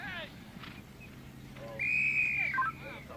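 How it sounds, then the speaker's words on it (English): A referee's whistle blows at a polo match at Grand Champions Polo Club, a bright sustained tone of about a second under crowd and commentary, with a few shorter chirps after. "And we have another whistle."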